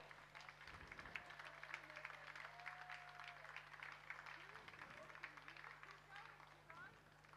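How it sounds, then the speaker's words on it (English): Spectators at a school rowing regatta applaud a lone rower nearing the finish line, a steady, fairly distant patter of clapping mixed with crowd chatter and talking. "give her a round of applause as she approaches the finish line"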